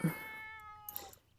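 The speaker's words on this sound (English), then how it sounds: "that's our cat" A domestic cat in The Sims 4 lets out one drawn-out meow, close and clear, followed by brief quiet game noise.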